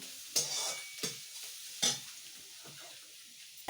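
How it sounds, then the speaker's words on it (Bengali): Rice fries in a pan with spring onion, cabbage, carrot and beans, a soft sizzle under three sharp scraping stirs of a spatula, close and fairly quiet, with no talking. "পেঁয়াজ কলি তারপরে বাঁধাকপি গাজর সিম সব কিছু দিয়ে ভাতটা একটু ভেজে দিই"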